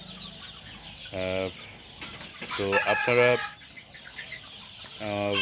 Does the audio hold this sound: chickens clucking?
yes